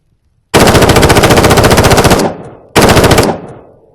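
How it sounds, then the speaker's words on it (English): An M4 assault rifle in a VR horror game fires a long, loud full-auto burst of rapid, evenly spaced shots, then a brief second burst after a short pause, with no talking. "Let's have a look at the M4 assault rifle"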